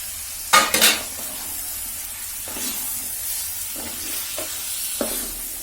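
Small chicken pieces frying in a pan for a traditional Kerala dish are stirred with a utensil: a couple of loud scraping clatters early on, then a steady sizzle with softer occasional scrapes.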